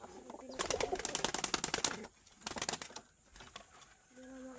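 Pigeons beat their wings in loud, fluttering bursts, close by, with soft cooing and a low murmur of voices in the gaps between flaps.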